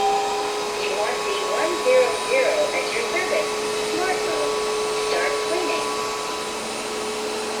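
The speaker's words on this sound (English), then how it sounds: "now we're gonna be testing the suction in terms of what it can actually pick up effectively" A wet-dry vacuum cleaner sucks up spilled milk with a loud, steady whine and hiss close by, carrying brief gurgling slurps. The motor drone holds constant throughout.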